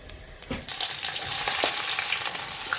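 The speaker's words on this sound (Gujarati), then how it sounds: "એમાં થોડુંક લસણ નાખી દીધું છે વઘાર મૂકવા માટે" Garlic and cumin seeds sizzle in hot oil for tempering, a loud, close, continuous crackle with a few sharp pops and faint stirring scrapes.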